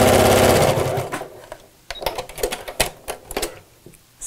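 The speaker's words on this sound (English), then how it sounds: "I'll put the second side on so I don't need to pin it. And sew straight across." A domestic sewing machine runs in a loud, close burst while stitching straight across the side of a fabric laptop bag, then slows into a few shorter, uneven whirs and clicks.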